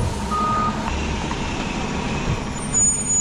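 A concrete truck backing up toward a power buggy on a pour sounds its reversing beeps over a low diesel engine rumble, with a brief hiss of air brakes near the end.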